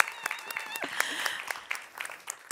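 Audience applause welcoming a State Secretary for International Development Cooperation on stage at a public forum, a steady patter of clapping with speech-like sounds mixed in.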